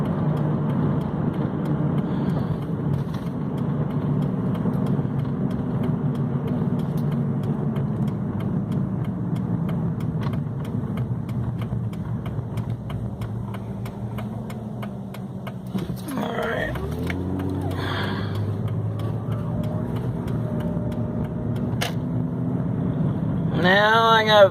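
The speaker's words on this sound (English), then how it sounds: "So I'm doing just over 40 miles an hour, so I'm actually doing a little bit under the speed limit" A car cruising steadily at just over 40 miles per hour, with a constant low engine and road drone from inside the cabin. Near the end, a few brief rising and falling tonal sweeps sound over it.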